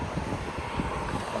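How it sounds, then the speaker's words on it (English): Strong wind gusting outdoors on a very windy day, a steady, loud rushing roar with the heavy buffeting of wind against the microphone and no distinct fan sounds. "No, look at the wind blowing it."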